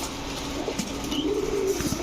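Giribaz and racer pigeons coo in a low, rolling murmur, one bird's call swelling clearly near the end over a steady hum of background noise.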